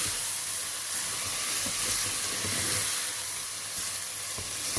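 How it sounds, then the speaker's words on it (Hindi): Masala spices fry in a hot pan for dhaba-style maash dal, with a steady, loud sizzle and hiss, occasional stirring scrapes breaking through the continuous crackle. "इसको हम भूनते हैं ताकि मसाला अच्छी तरह से इसके अंदर रच बस जाए"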